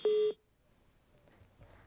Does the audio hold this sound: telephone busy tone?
yes